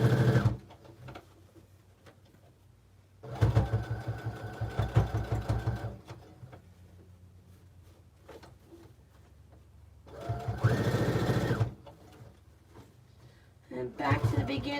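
A sewing machine stitches a quilted cell phone pouch in several loud, rapid bursts separated by quieter pauses, while a person talks softly in between.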